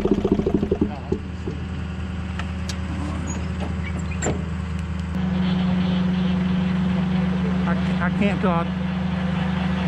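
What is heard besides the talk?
Bobcat engine cranking and running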